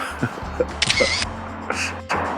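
Camera shutter clicks during a quick selfie, two short bright mechanical snaps with small handling noises around them, close by and fairly loud, no speech.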